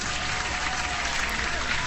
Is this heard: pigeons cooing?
no